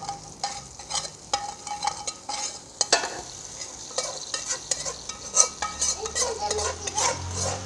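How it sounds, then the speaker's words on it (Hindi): Hot oil tempering sizzles and crackles steadily as it is stirred into kadhi curry, while a spoon scrapes and clinks against a metal pot in irregular bursts close by. "ये लीजिए, कड़ी को लग गया तड़का।"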